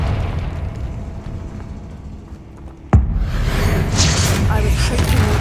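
A Confringo fire-blast spell in Hogwarts Legacy bursts with a sharp, loud boom that cuts through dense game noise, then leaves a broad roaring rush of fire and debris.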